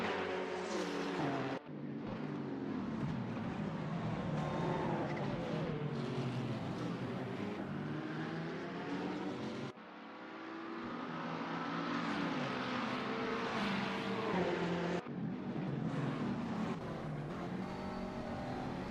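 McLaren race cars on the straight at Daytona in Gran Turismo, engines howling loudly and rising in pitch, with brief drops at gear changes and cars sweeping past one after another.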